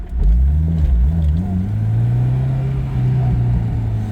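A 2005 Honda S2000 Roadster is driven, its engine droning loud and close as the revs rise and fall and then settle into a steady hum, with no voices over it.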